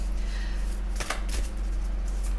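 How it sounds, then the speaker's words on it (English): Tarot cards get a quick shuffle, a brief burst of riffling card clatter up close, heard alone. "Just give them a little quick shuffle."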